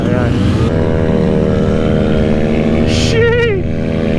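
A vehicle engine runs close and loud before a stunt ride, holding a steady rumbling tone with slight rises in revs, and a voice calls out briefly over it near the end.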